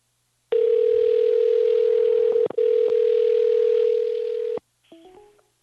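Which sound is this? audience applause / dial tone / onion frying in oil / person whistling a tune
dial tone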